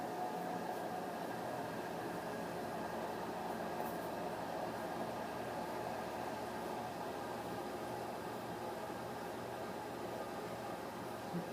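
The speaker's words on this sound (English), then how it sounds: "listen to that washing machine" A nearby washing machine runs with a steady, low mechanical hum and faint churning, quiet and unchanging throughout with no talk.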